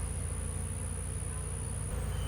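Honey bees drone in a dense, continuous buzz at an open hive from a laying worker colony, steady and close throughout with no voices.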